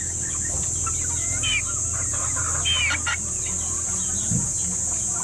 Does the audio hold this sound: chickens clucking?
yes